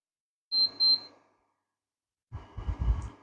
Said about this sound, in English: It does make a beep every time I press a button.